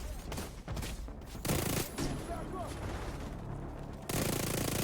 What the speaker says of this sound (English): The damage output of this SMG is absolutely insane.